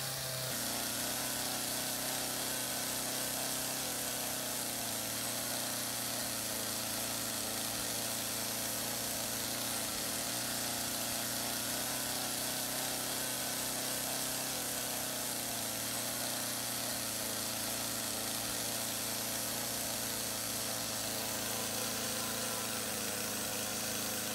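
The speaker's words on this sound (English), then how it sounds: "Terrence King of Far From Finished was carving with a chainsaw." A chainsaw carving wood at an outdoor woodworking event drones steadily at a distance, engine buzzing continuously without pause, with no talking.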